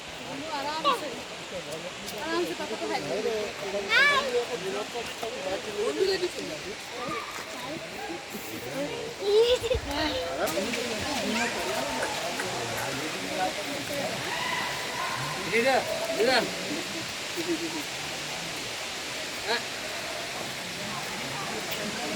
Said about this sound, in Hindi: पानी के गिरने की आवाज़ इतनी तेज़ होती जा रही थी